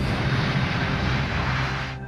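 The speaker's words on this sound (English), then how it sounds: "Flight 371, cleared for takeoff." Airbus A310 airliner of Romanian airline rolling for takeoff, a steady loud broadband engine roar with a low hum, sustained throughout and fading slightly at the end.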